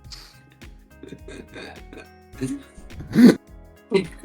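A voice makes hacking, retching throat noises in bursts, imitating something being coughed up, with a loud gagging heave near the end.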